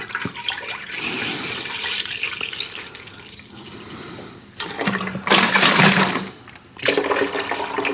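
Pineapple juice poured into a cooking pot, a running liquid splash that swells into louder gushing bursts near the end, heard close with no talk.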